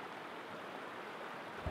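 Flowing stream near an off-grid cabin, a faint, even hiss of running water heard from a short distance, with a small bump of sound right at the end.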